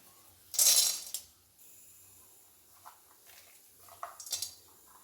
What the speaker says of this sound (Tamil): நான் வந்து கடாயில் நிலக்கடலை போட்டுக்கிறேன்